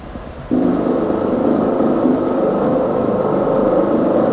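Synthesized tone generated from laser-drawn letter patterns at a Robert Henke Lumière workshop, a dense steady buzzing drone that starts abruptly after a brief quieter lead-in and holds at constant loudness throughout.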